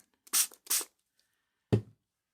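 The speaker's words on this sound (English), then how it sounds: "I'm going to spray just a little bit of water on it" Two quick hissing spritzes from a spray bottle misting water, close by and otherwise quiet, followed by a single soft, dull knock.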